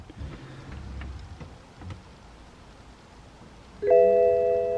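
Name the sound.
BMW E90 3 Series ignition switched on with key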